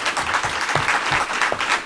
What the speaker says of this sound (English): let's all give Ambassador Morningstar a round of applause